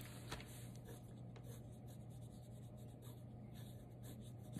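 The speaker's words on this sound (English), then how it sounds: "My messy sketching." Sketching on paper with a pencil, a faint, steady scratch of soft strokes with a few light taps, very quiet and close, with no one talking.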